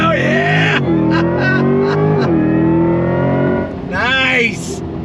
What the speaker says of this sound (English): you get a nice combination of the V8 rumble with a little bit of Tron cycle in there